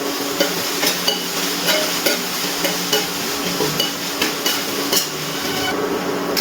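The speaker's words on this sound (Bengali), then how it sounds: "পেঁয়াজগুলো দেওয়ার পর আমি অল্প একটু লবণ দিয়ে দিচ্ছি, যাতে করে পেঁয়াজটা তাড়াতাড়ি ভাজা হয়ে যায় ও নরম হয়ে যায়।" Sliced onions sprinkled with salt fry in a pan, a steady close sizzle punctuated by regular clacks of a spatula stirring and scraping against the metal.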